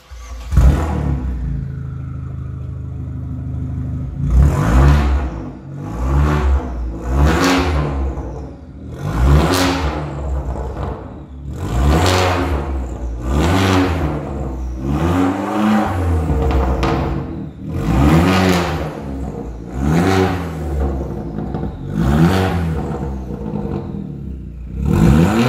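A car engine with an aftermarket exhaust revs repeatedly in rising and falling bursts while reversing into a garage unit, loud and close, with whirring and clattering between throttle blips.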